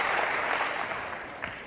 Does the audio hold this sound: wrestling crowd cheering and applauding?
yes